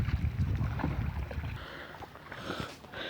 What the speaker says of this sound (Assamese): এয়া চাওক, আৰু এখন নাৱত এনেকৈ মানুহ আহি আছে